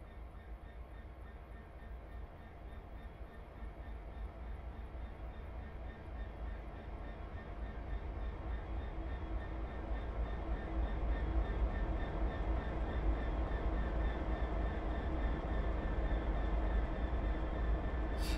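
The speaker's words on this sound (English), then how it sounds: "Now this is a British loco" A British EWS Class 66 diesel locomotive in Train Simulator on the Sherman Hill route, its engine a steady low drone with rolling rail noise that grows gradually louder, heard alone without talk.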